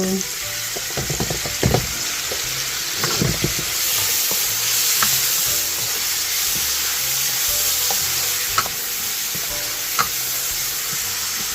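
Onion and tomato cooking in a pan for dinuguan, a continuous crackling sizzle with a few stirring clinks early on, then steady frying noise alone.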